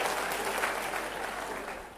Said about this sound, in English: It's only clap. That's good appreciation.